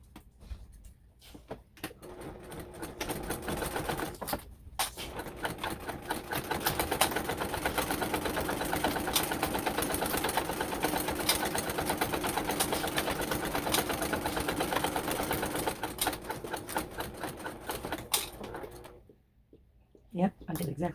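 A sewing machine stitches in a steady, rapid run for about fifteen seconds after a few short starts, fairly close and moderately quiet, stopping abruptly before a brief pause.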